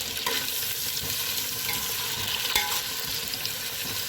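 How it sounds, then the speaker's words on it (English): Tomato, onion, mint and coriander frying in a pan for chicken biryani, a dense steady sizzle with a few spatula taps while the mixture is stirred. "And you have to fry it well until the tomato softens."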